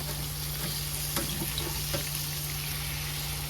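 Stuffed salmon filled with cream cheese and spinach fries in a shallow layer of oil in a warm skillet, giving a steady, even sizzle and hiss throughout, with a couple of faint soft clicks and no talking.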